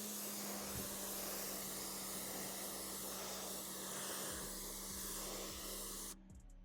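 Water sprays hard onto a car being rinsed outdoors in hot direct sunlight during detailing, a loud, steady hiss that runs unbroken and stops abruptly near the end.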